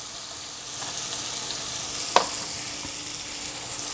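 Onion and garlic fry in a pan with a steady, close hiss of sizzling oil, and a brief clink of stirring near the middle; no voices.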